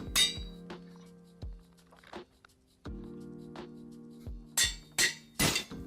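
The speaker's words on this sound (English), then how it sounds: "The anvil broke there? It's breaking so quickly." Metallic clangs from a Minecraft anvil in a video game: several sharp ringing hits with sustained tones, spaced irregularly, and a quicker cluster of strikes at the end.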